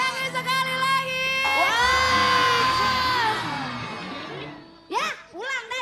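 A studio audience at an Indonesian comedy show cheers once more, a loud swell of shouting and whooping that holds for a few seconds then fades, followed by scattered voices.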